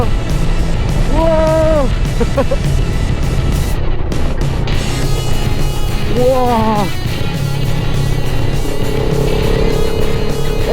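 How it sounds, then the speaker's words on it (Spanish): A Yamaha MT-03 motorcycle engine while riding, a loud steady drone close to the microphone with two rising-and-falling revs, as an excited voice exclaims over it. "Esta es la moto más rabiosa que he visto."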